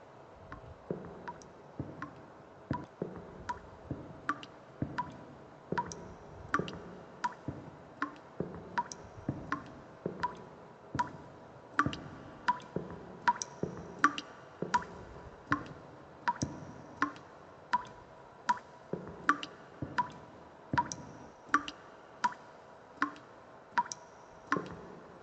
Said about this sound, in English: There's a pipe that's always leaking right above it. I guess I'll just have to walk towards the dripping sound.